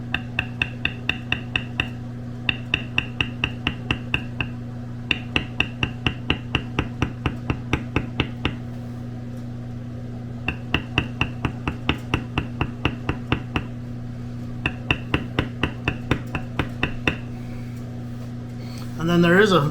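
A mallet strikes a metal beveling tool on tooled leather in rapid bursts of sharp, evenly spaced taps, each run pausing briefly before the next, close by over a steady low hum.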